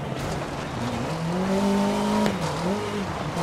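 A rally car in the DiRT Rally video game brakes and downshifts into a hairpin, its engine note dropping, swelling and then falling again over a few seconds, loud and close with no voices.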